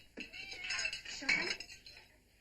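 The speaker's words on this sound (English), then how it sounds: "you put that cat down" A house cat meows in a domestic kitchen while dishes and cutlery clink, with a voice speaking over the mix for most of the short stretch.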